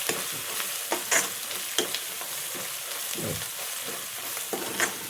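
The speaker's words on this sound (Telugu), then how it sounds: "ఒక స్పూన్ పసుపు వేసిన మంచిగా కలుపుదాం" Food sizzles steadily in a pan while a utensil stirs turmeric through it, scraping, with a few sharper clinks; no voices.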